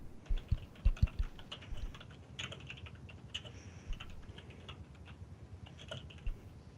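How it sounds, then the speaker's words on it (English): Fingers type on a computer keyboard nearby in quick, irregular bursts of clicks and taps, with no talk over them. "You're typing."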